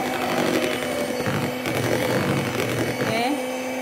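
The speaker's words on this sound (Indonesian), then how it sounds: "Kita mix pakai mixer kecepatan rendah aja, yang penting nyampur rata semua ya." Electric hand mixer on low speed blending chocolate cake batter for a steamed cake, a continuous close motor whir with slight wavering as the beaters move through the bowl.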